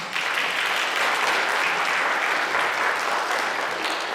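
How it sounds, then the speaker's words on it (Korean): Sustained applause from a church congregation at a Korean praise and testimony gathering, dense steady clapping filling the room at even loudness from start to finish with no voices over it. "주님께 영광의 박수 한번 불러드립니다"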